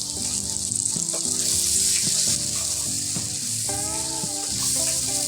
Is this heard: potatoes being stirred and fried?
yes